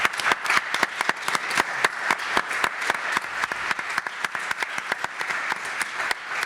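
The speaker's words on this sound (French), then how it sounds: "j'aimerais qu'on les applaudisse très chaleureusement." Sustained applause from a conference audience at a Quebec study day, a dense steady patter of many hands clapping with a few sharper claps standing out, with no talk over it.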